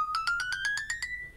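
Samsung Galaxy Watch 4 ringtone Stairway, a bright electronic tone of nine evenly spaced beeps climbing gradually in pitch, crisp and clear with nothing else behind it.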